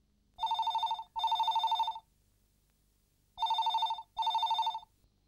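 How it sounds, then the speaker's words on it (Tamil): An old-style telephone bell rings in two double bursts with a pause between them, clear and close in an otherwise quiet room. "மணி, உனக்கு தான் ஃபோன்."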